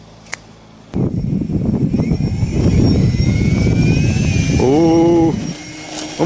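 A small 3D-printed model plane's engine whines loudly as it flies, the pitch climbing and dipping, then cuts out abruptly near the end as it crashes.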